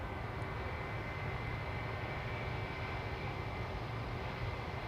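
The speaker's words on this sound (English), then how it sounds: "Singapore Airlines A350 will be leaving here from the threshold pretty soon." A Singapore Airlines A350 airliner spools up at the runway threshold at Amsterdam Schiphol, a loud, steady broadband engine roar that holds without a break throughout.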